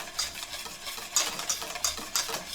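A whisk beats creme brulee custard in a bowl, with rapid, rhythmic scraping strokes in repeated bursts, close and fairly loud, and no voices.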